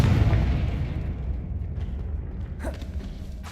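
A Confringo explosion spell goes off in Hogwarts Legacy, a loud booming blast at full strength that rumbles and slowly fades, with a small crackling burst near the end.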